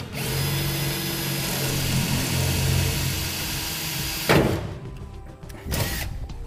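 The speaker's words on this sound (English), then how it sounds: "Now we'll drill a pilot hole where we made our indentions in the bed" A power drill whines steadily for several seconds while boring a pilot hole into the metal bed of a 2014 Ford F-250 pickup, then stops, with a short second burst near the end.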